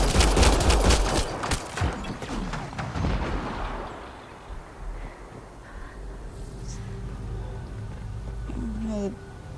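Dense rapid gunfire and explosive blasts in the video game Mass Effect Andromeda, loud at first and then thinning to scattered distant shots, with a voice talking.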